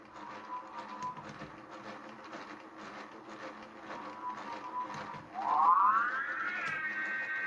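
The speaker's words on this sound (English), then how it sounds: "So that's a siren." A 1/6 scale Ghostbusters Ecto-1 toy car sounds its siren, a faint wailing tone that swoops upward and grows louder near the end over quiet background noise.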